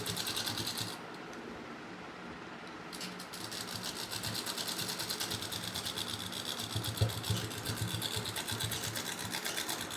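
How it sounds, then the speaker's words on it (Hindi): An electric sewing machine runs steadily, stitching the edge seam of a pocket on homemade cotton shorts, its rapid needle chatter loud and close, with one brief pause near the start before it resumes. "इस जॉइंट को ऐसे दबा के इसकी किनारी पे सिलाई लगाएंगे।"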